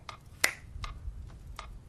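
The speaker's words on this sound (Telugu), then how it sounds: "ఇలా చిటికేస్తే" A finger snap in a hushed hypnosis scene from a Telugu horror film: one sharp, close snap, with a few fainter clicks around it against a quiet background and no speech.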